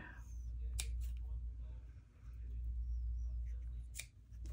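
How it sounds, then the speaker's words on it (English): Scissors snip the ends of ribbon or string short, giving a few quick, sharp clicks close by over a low background hum, with a person speaking softly nearby. "And I will just cut these a little short."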